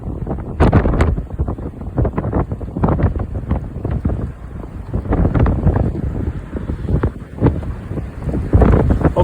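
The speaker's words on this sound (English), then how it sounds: "this wind is kind of brutal" Strong gusts batter the microphone on a beach, making a loud, continuous low rumble with buffeting surges throughout and no voices.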